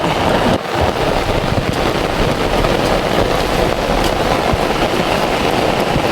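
Heavy rain pours down over a quiet coastal village with rice fields, a steady dense roar that stays loud and unbroken throughout, with no voices.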